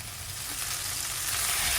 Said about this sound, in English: do not overcrowd your wok with the beef because it's going to steam it and not fry it